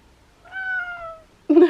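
A house cat gives two close meows, a drawn-out tonal one followed by a shorter, louder cry, in an otherwise quiet room.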